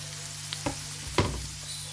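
Onion and carrot frying in a pan, a faint sizzle under a low hum with two brief scraping stirs.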